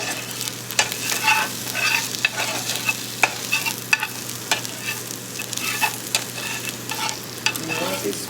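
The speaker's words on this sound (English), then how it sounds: "You want to keep them frying as well." Potato skins sizzle and crackle steadily in a hot pan, with frequent scraping and tapping as they are stirred.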